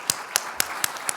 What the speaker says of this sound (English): So I just want to clap.